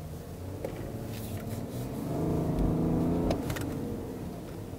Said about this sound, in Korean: 엔진을 가속을 하고 그 다음에 가속 페달을 발을 떼면 즉각적으로 엔진은 또 이렇게 아이들로 탁 돌아오는군요